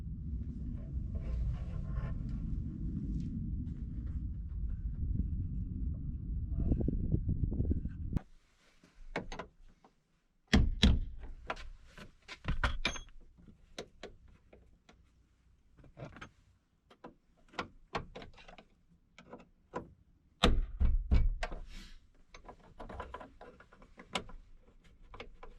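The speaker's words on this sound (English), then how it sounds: "and meanwhile we'll put this door pin in." Work on a Chevrolet ZR2 Blazer door hinge pin: a steady low rumble for about eight seconds, then silence broken by sharp metallic taps, clicks and knocks of tools on the door hardware, irregular and close.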